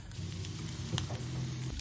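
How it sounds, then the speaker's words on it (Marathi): Masala sizzling in oil with tomato puree in a pan, a steady close frying hiss with faint crackles and a couple of small clinks, no talk. "टोमॅटो प्युरीला तेल सुटलंय, आता मसाला घालूया."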